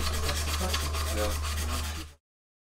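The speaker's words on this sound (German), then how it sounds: "Ich schleife das einfach weg. Ich schleife es einfach so ein bisschen gerade" Rasping sanding of a damaged hydrofoil wing at a kitesurf race event, a steady close abrasive rubbing with an even rhythm that runs continuously for about two seconds and then stops abruptly.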